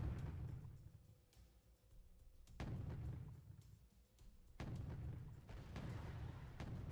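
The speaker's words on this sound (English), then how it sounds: "Both sides is exchanging a bit of fire." Tanks trading fire in the real-time strategy game Wargame: Red Dragon, with two deep booming blasts a couple of seconds apart over low rumbling battle noise, a little distant.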